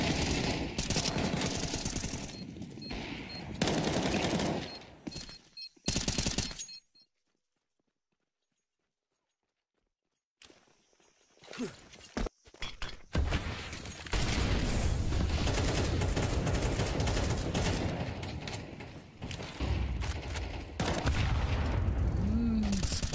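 Rapid bursts of Counter-Strike gunfire crackle loudly in a professional esports match, broken by a brief silent gap, then resume as a dense, continuous barrage with clattering effects.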